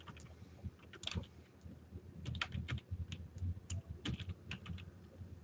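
Fingers tap on a computer keyboard, a close run of quick, uneven key clicks with short pauses, fairly quiet over a soft background hiss.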